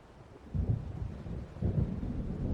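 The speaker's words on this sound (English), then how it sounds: "It seems there's a storm coming." Low rolling thunder from an approaching storm in the video game Alan Wake, two soft rumbling swells heard at a distance against a quiet, hushed background.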